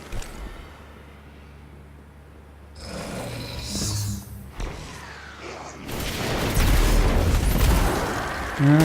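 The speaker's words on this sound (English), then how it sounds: "A couple more taken out by the grenade." In Destiny 2: Forsaken, a grenade explosion lands as a muffled boom that swells into a rumbling burst near the end, following softer thuds over low background hum.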